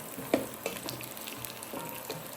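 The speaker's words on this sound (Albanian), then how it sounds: "tash ja shtoj mishin e coptuar, mishin e thatë. Dhe masën do e fërgoj për 7-8 minuta në të njëjtën temperaturë." Chopped dried meat fries in a pan with a soft, steady sizzle, broken by a few quiet clicks and scrapes of stirring, close and alone with no voices.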